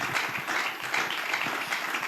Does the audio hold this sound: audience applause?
yes